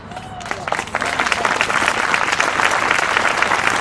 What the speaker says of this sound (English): I'm glad that got applause.